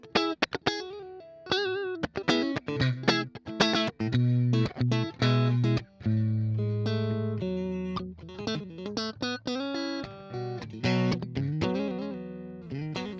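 Electric guitar through a Vox MV50 amp's clean channel playing a run of plucked notes and chords with a clean, bright tone, loud and close, alone without any voices.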